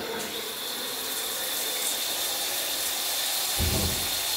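Water streams from a rain shower head switched on at a mixer tap in a newly plumbed bathroom, a steady broad hiss throughout with a brief low splash near the end.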